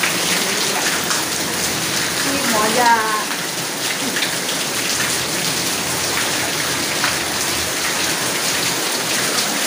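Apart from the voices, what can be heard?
heavy rain pouring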